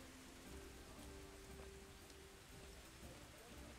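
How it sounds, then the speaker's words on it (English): Rain falls in the medieval video game Kingdom Come: Deliverance as a soft, steady patter and hiss. Faint tonal game sounds sit underneath it, and no one speaks. "Oh, the rain's cleared up. Oh no, it hasn't."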